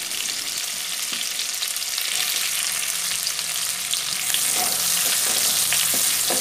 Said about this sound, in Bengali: এবারে ওর মধ্যে কেটে রাখা পেঁয়াজগুলো দিয়ে দেব।